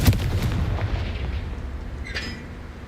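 A Confringo spell in the video game Hogwarts Legacy lands with a sharp blast at the start, followed by a rumbling decay and a brief bright crackle near the end.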